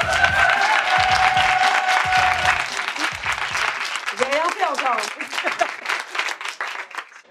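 An audience applauds a comedian at a comedy show, a broad steady wash of clapping with whistles, then thinning out as someone speaks over the tail.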